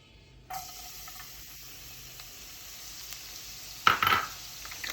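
Garlic hitting hot oil in a pan over medium-high heat gives a steady, close sizzling hiss that starts abruptly after a brief quiet moment and flares louder near the end, with no talking.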